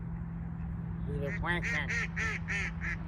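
A duck at a fishing lake quacks in a rapid series of loud, nasal honking calls over a steady low hum, close by and with no talking.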